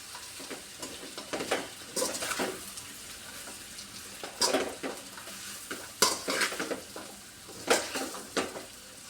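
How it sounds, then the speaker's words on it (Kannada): Rice is stirred into chicken fried rice in a pan, with repeated scraping and clanking of a spatula against metal over a faint sizzle, coming in irregular bursts at close range. "ರೈಸ್ ಹಾಕ್ಕೊಳ್ಳೋಣ ಇವಾಗ. ಚೆನ್ನಾಗಿ ಮಿಕ್ಸ್ ಮಾಡ್ಕೊತೀನಿ."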